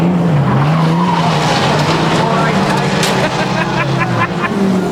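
Pre-1968 rear-wheel-drive banger racing cars roar and skid around a track, tyres squealing over loud engine drone throughout, with a voice talking over the racket.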